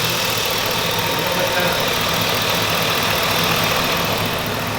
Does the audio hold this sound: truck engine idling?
yes